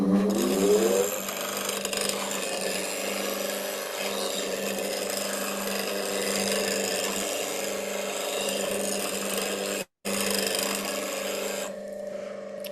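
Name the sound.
woodturning gouge being sharpened on a grinder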